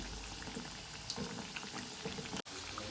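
Sabudana vada deep frying in oil over a slow flame, a steady dense bubbling and crackling throughout, close and even, with a brief dropout near the end and no voices.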